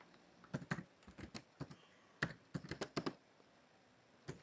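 Localhost typed on a computer keyboard: a quick run of distinct key clicks in short bursts with brief pauses, close and fairly quiet, with no voices.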